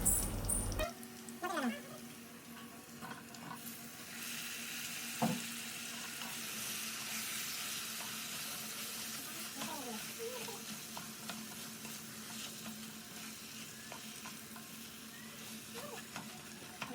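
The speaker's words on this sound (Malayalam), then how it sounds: "നമ്മൾ വേവിച്ച് വെച്ചിരിക്കുന്ന കപ്പ അല്ലെങ്കിൽ മരച്ചീനി അതിനകത്തേക്കൂട്ട് ചേർത്ത് കൊടുക്കുക. എന്നിട്ട് നന്നായിട്ട് ഇളക്കി കൊടുക്കണേ" Boiled tapioca, kappa, is stir-fried with shallots in a pan, giving a quiet, steady sizzle with occasional scraping and stirring clinks, faint and close.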